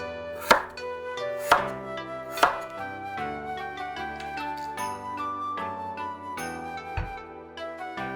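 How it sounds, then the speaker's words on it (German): Knife slicing firm-cooking potatoes into even 3 mm slices on a board, three sharp distinct chops followed by softer, quicker cuts and light clinks, close and clear with no talking. "Die Kartoffeln in gleichmäßigen Scheiben schneiden, also ca. 3 mm dick."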